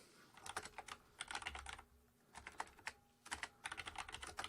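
Close typing on a computer keyboard, quick bursts of clicky keystrokes separated by short pauses.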